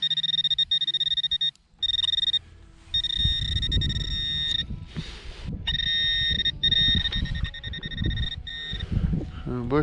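A metal detector sounds a steady high electronic tone while hunting along a riverbed in Ukraine. The tone drops out and returns several times over rustling, splashing handling noise.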